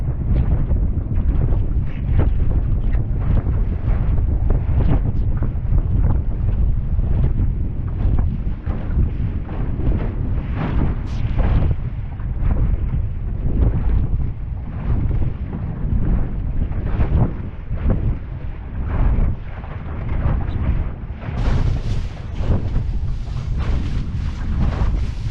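Strong, gusty wind roars across a microphone aboard a sailboat running under a reefed mainsail, a loud, continuous buffeting rush that surges and eases throughout with water noise beneath it and no talk.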